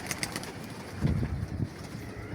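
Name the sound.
pigeons cooing in a loft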